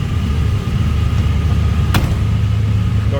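A 1950 Ford Club Coupe with a 350 V8 and automatic transmission idles with a loud, steady low-frequency rumble, close by, with one brief click partway through.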